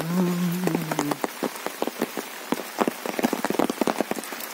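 Rain pattering steadily on surfaces at a zoo park in Kufri in the Himalaya, a dense irregular patter of close drops, with a short stretch of voice at the very start.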